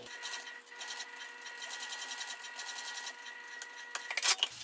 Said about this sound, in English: I'm going to kind of hold it up while I sew and kind of not push and pull my material